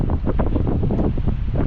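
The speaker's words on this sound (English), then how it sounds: "The wind is just blowing so hard" Strong wind gusts over the lower Niagara River, buffeting the microphone with a continuous loud, rough roar for a couple of seconds.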